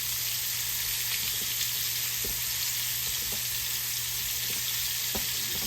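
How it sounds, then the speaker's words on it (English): Sliced onions and apples fry in a hot pan with a loud, steady, dense sizzle and faint crackles throughout, close up and without talk. "We're going to put the onions and apples in there."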